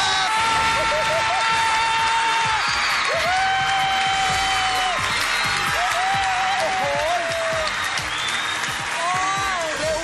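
Studio audience applause and cheering on a Thai television quiz show, a dense, steady clapping wash filling the whole stretch with whoops, while a host talks over it.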